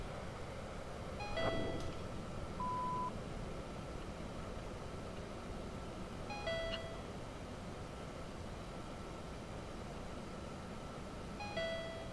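Cockpit warning alarm in a Mirage 2000 C flight simulator game: a short electronic tone burst repeats three times about every five seconds over a steady low engine-like hum, no talking.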